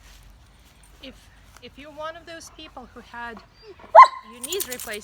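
A dog barks once sharply in a garden while a person keeps talking steadily over it.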